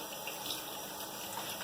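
Tap water runs steadily into a sink as an immature luffa gourd is rinsed and squeezed, a loud, close, continuous splashing rush with no voices.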